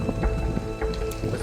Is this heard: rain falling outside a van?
yes